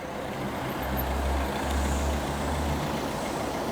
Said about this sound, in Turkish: O araba oradan gelmeseydi çok daha güzel olacaktı ama ne yapalım geldi